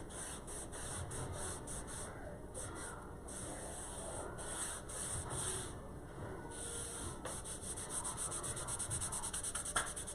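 Wiping cloth rubbed over painted wood on a door hanger to distress the paint, giving a close, quiet, steady scrubbing with quick repeated back-and-forth strokes and no talk.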